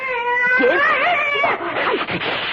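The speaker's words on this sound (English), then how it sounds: "Come on, Cat. Get down. Get off my chair." A house cat meows loudly and insistently close by, a long drawn-out yowling call followed by shorter complaining meows, with no one talking during it.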